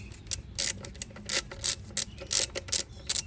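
A hand ratchet works half-inch bolts loose on a third-generation Camaro engine, giving quick bursts of sharp, close metallic clicking that start and stop in an uneven rhythm.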